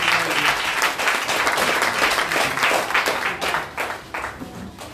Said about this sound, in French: Acclame Jésus, on continue.